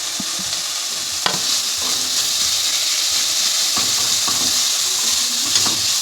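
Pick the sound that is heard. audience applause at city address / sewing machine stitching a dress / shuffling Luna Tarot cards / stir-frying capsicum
stir-frying capsicum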